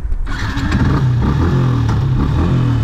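A Yamaha YZF R125 motorcycle engine starts and revs, close and loud, its buzzing mid-pitched note rising and settling through a few quick throttle blips during wheelie practice.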